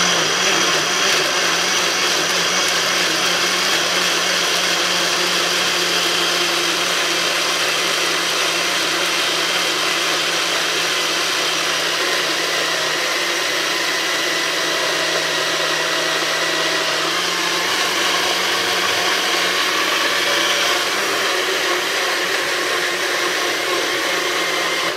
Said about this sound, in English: You don't even need to blend it, like you're gonna blend it for the whole day, Chef Ricardo.